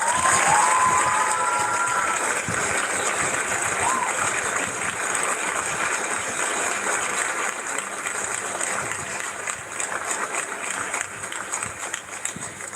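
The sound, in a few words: crowd applause and cheering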